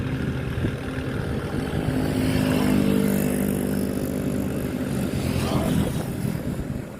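A river tugboat hauling a sand barge, with a loudspeaker on its roof, drones steadily with a low, continuous engine rumble that swells slightly as it draws nearer, mixed with wind noise.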